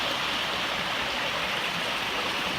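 A small mountain cascade on Comer's Creek pours beside a footbridge, giving a steady, close rushing wash of water with no voices.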